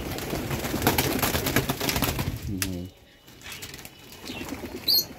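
Pigeons kept in a basket coop on a farm in Taherpur, Bagmara, Rajshahi coo and rustle amid busy background noise, with a brief clear coo mid-clip and some wing flaps.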